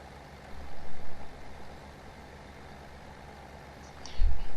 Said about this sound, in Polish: Znaczy się wolny jest ciągnik. Pod górkę strasznie zwalnia.